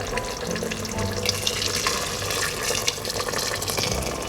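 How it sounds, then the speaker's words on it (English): Water poured from a tap into a pot of simmering chickpeas for a Lahori choley breakfast dish, a steady close splashing flow lasting throughout with no voices. "Add some more water."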